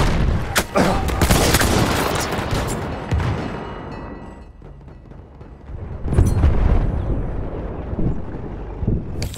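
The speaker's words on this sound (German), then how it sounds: "Jetzt eine Granate!" Grenade blast amid a Battlefield 1 assault on Amiens, heavy booming explosions and gunfire with rumbling, wind-like noise, a loud burst early and another surge around the middle, with shouted voices in the mix.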